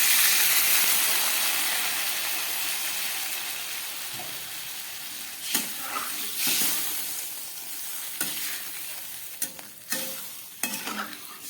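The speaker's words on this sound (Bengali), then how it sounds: "এবার দিয়ে দিচ্ছি পরিমাণ মতো জল" Water is poured into a pan of spiced cauliflower and potato curry, and a loud sizzling hiss fades into bubbling, followed by several sharp clinks and scrapes of a utensil.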